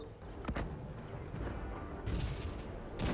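Several loud, booming howitzer shots in Cossacks 3, one after another against a steady rumbling background, with a sharp blast near the end.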